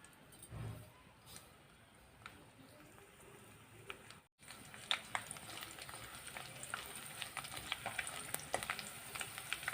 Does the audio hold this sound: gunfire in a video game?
no